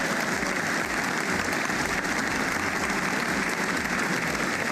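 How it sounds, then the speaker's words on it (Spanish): A crowd applauds at a political event after a public-security proposal is announced, a dense steady patter of clapping that holds throughout with no voices over it. "Bueno, Santiago, los aplausos se dan porque ciertamente es una propuesta que llama la atención al ciudadano que se ve afectado por la delincuencia"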